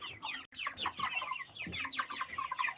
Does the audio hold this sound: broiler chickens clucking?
yes